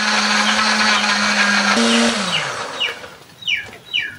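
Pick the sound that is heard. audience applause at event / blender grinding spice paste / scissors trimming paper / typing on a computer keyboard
blender grinding spice paste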